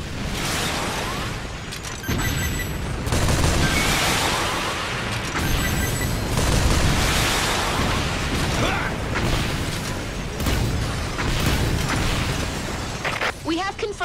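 Loud, dense bursts of gunfire and mechanical clanking from Earth Defense Force 5 roll on continuously, with crashes and booms mixed into the din, firing on a giant walker's legs.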